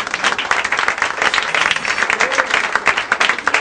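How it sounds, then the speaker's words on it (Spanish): A church congregation applauding, a loud close burst of many hands clapping with an uneven, rhythmic pulse, lasting a few seconds with a little crowd murmur beneath. "Demos un aplauso de gloria al Señor"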